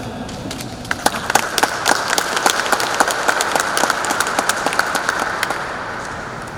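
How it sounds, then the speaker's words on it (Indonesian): An audience at a wedding blessing applauds steadily, many hands clapping together in a sustained, even burst that holds for several seconds before tapering slightly. "Mari kita beri tepuk tangan."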